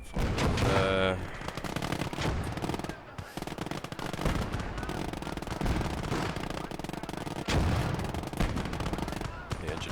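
Rapid bursts of machine-gun fire in the World War II strategy game Call To Arms: Gates Of Hell, dense and continuous across a noisy battlefield mix, loudest in the opening second.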